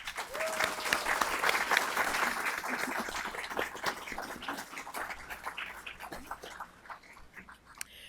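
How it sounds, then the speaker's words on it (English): A crowd applauds steadily for several seconds for length-of-service awardees at employee awards, a dense wash of clapping that gradually thins out toward the end. "Let's give our length of service awardees a round of applause"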